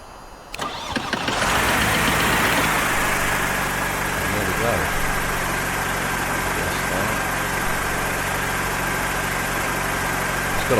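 A Robin DR401 light aircraft engine with FADEC control cranks and catches within about a second, then runs at a loud, close, steady idle with a constant rumbling drone and slight vibration throughout.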